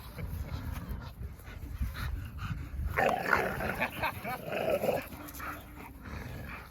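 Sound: American Bully and Staffordshire dogs playing and growling

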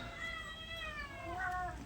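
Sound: newborn kittens meowing for milk

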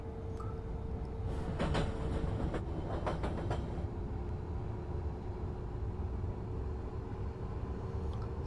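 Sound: train driving in the video game Train Simulator 2014

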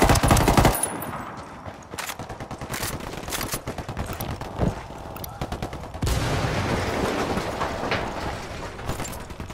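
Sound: gunfire in video game Ghost Recon Wildlands

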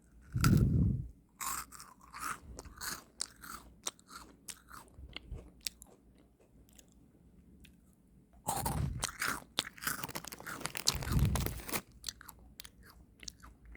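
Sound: eating a crunchy Crayon Shin-chan chocolate biscuit

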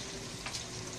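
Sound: stir-frying in oil in a pan

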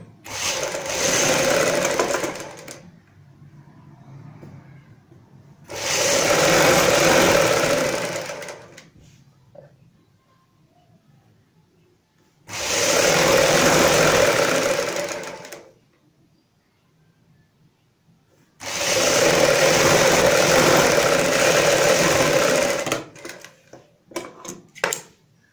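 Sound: sewing machine stitching a kurti waist seam

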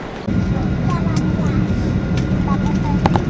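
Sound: inside an airplane cabin in flight

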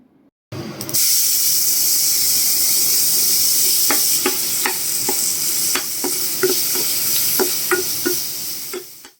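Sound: onions frying in oil with nigella seeds

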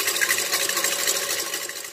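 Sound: electric mixer beating egg whites

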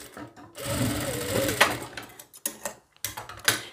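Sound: sewing machine stitching blouse fabric

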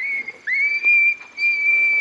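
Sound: Foxpro Patriot game call playing coyote pup screams

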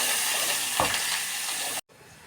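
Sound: frying tomato, onion, coconut and coriander paste in oil

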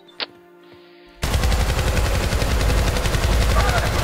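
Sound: gunfire in the video game Syndicate

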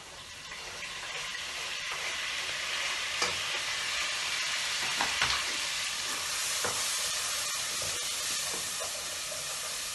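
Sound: chopped tomato frying with bhindi in a pan

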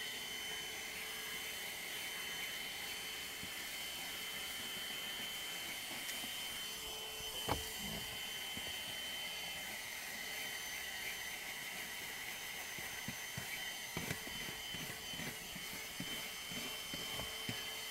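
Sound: Agaro handheld car vacuum cleaner running

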